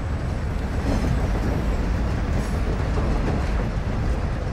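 Train in the video game Call of Duty rolling past, a steady broadband rumble and rattle held at an even level throughout, with no voices over it.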